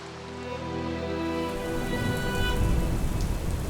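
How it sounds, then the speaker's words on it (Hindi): Heavy rain pours steadily, a dense loud hiss that swells slightly over a few seconds, with no voices. "पर बारिश रुकती ही नहीं है। तूफान और तेज हो जाता है"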